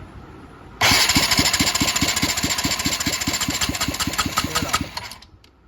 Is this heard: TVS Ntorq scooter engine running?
yes